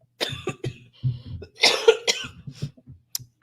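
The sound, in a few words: coughing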